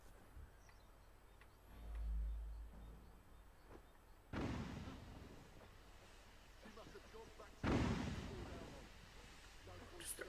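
Two smoke bombs burst in Assassin's Creed Syndicate, two sharp, loud pops a few seconds apart, each followed by a fading rushing hiss, after a low rumble near the start.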